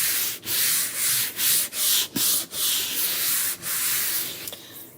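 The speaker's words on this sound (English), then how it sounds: "I'm just going to rub this part down." Chalk transfer stencil being rubbed down by hand on a faux embroidery hoop craft, a steady scratchy sanding-like rasp in repeated strokes with brief pauses, close and fairly loud, no talking.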